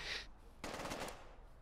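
A rapid burst of gunfire, heard alone and at moderate distance, rattles out in the zombie survival video game Contagion after a brief hiss.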